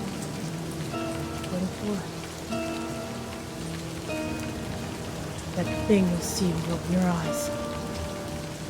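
Steady rain pours throughout a video game scene, a constant wash of drops on surfaces beneath a voice talking and tonal game music.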